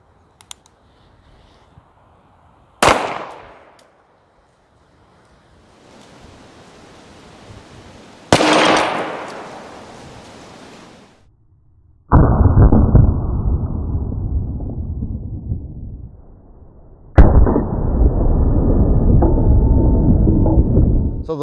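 A 1911 pistol firing .45 ACP rounds at an electric griddle: two sharp, loud cracks with short decays several seconds apart, followed by two bursts of sustained noisy rattle in a quiet setting.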